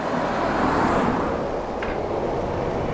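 A car drives along a scenic Douro Valley road in Portugal, heard from inside as a steady low rumble of engine and tyre roar with a brief lighter swish partway through.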